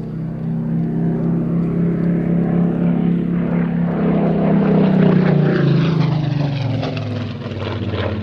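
A Spitfire propeller aircraft flies at an air festival, its engine a loud, steady drone that holds throughout and sinks in pitch toward the end as the plane passes overhead.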